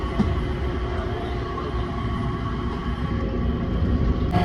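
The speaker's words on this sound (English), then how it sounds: "this is the SkyTrain" Singapore airport SkyTrain running between terminals with a steady, close rumble and hum of the moving car, continuous and fairly loud with no talking.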